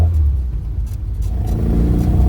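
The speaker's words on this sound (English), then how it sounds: "So let's go for a little drive with this Mini." A restored classic Mini pulls away, its small engine rumbling and revving up loudly and close as it gathers speed.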